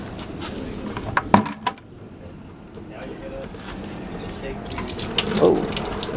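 Green coolant drains from the radiator of a 1990 Jeep Comanche MJ Eliminator, a close liquid pour and trickle that rises toward the end, with brief clanks early on.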